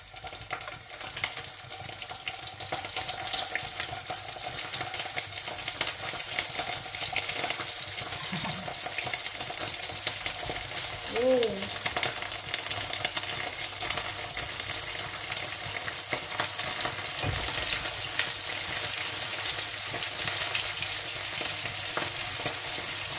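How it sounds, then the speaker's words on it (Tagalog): Steady, crackling sizzle of dried fish (tuyo) frying in hot oil in a hot pan, continuous and close, with faint clinks now and then and no voices. "ipiprito na natin ang tuyo"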